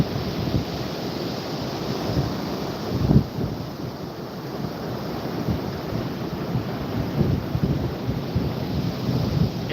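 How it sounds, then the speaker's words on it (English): Big ocean waves at Topsail Beach crash and wash in a continuous, loud roar, with a heavier surge breaking near the middle and wind buffeting the microphone throughout. "this is some big old waves"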